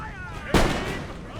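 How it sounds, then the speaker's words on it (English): A loud, sudden burst of musket volley and artillery fire in Empire: Total War, a battle of British redcoats against Ottoman troops, cracks out at once and then rolls off into a dense rumbling decay. "Artillery coming in at the same time."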